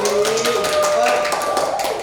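Brief clapping at an online Christmas gathering, with taps that come through loudly alongside overlapping speech and a tonal voice throughout.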